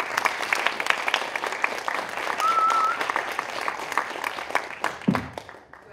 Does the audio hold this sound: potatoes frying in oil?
no